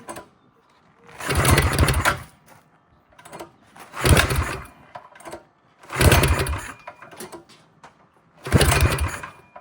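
Black Widow go-kart engine fitted with a stage 2 kit (cam, rod, valve springs) is pull-started, with four loud bursts of sputtering, struggling engine noise about two seconds apart and brief quiet gaps between attempts.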